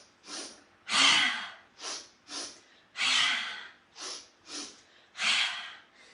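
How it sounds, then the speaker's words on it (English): Forceful, audible exhales through the mouth during intense breathwork, about eight breathy whooshes of varying length in a steady rhythm, close and loud with nothing else heard. "exhale in between your legs through the mouth with a audible exhale"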